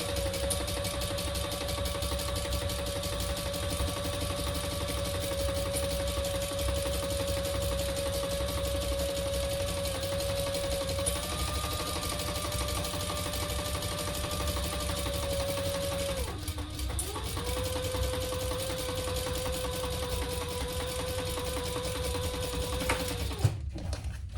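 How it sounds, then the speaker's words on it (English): A sewing machine stitches steadily as it bastes a quilted top and bottom layer together wrong sides facing, with a constant hum that briefly pauses and shifts pitch near the end. "your top and your bottom, wrong sides together, and we're just gonna baste that in place too"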